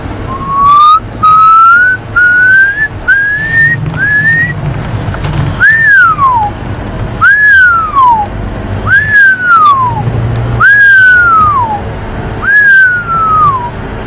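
A person whistles an imitation of the pearl-spotted owlet's call, a small African owl, during an afternoon safari drive at Djuma Game Reserve. It starts as a run of short rising notes and becomes a series of longer whistles that rise and then fall, loud and close.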